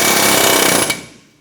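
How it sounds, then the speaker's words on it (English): An air chisel hammers rapidly at a seized pinch bolt on the front lower ball joint of a 2007-2012 Nissan Versa, a loud continuous metallic rattle close by that stops abruptly and fades out. "I'm going to use an air chisel with a little hammer"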